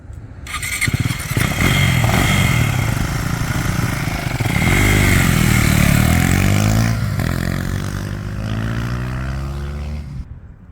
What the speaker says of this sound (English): Perfect for riding a motorbike like this.